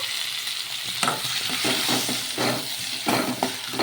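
Tomato, green chilli and onion sizzling in a hot pan while a spoon stirs them, a continuous loud frying hiss broken by repeated scraping strokes, close up and without speech.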